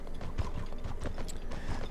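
Horse hooves clip-clopping in the online game Mortal Online, a steady rapid stream of close hoofbeats with no voices.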